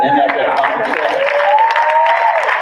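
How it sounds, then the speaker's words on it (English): An audience applauds in a steady, moderately loud patter of many hands, heard alongside a voice talking over it. "listen to these bunch of idiots applauding"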